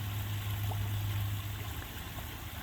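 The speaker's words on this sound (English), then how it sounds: "enjoying the sound of the water as it comes down and bubbles and hits the rocks and bubbles in the water" Water pours steadily over rocks from a home-built filtering waterfall, a soft continuous bubbling trickle with a faint low hum beneath it and no voices.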